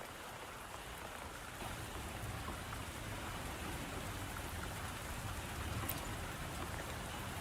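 Steady, soft rain falls in the video game Wuthering Waves, an even wash of drops pattering on surfaces, faint and unbroken throughout with no voices.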